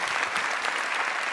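Brief burst of audience applause in a comedy theatre crowd during a stand-up set, many hands clapping together in a dense, fairly quiet patter with no talk on top.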